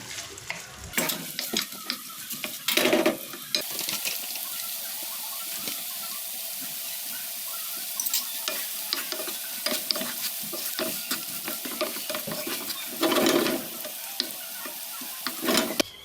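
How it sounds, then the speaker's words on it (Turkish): Onions frying on top of half-fried meat in a pan, a steady close sizzle with frequent stirring scrapes and a few louder bursts of crackle. "Yarı qovrulmuş ətin üzərinə soğanları əlavə etdim"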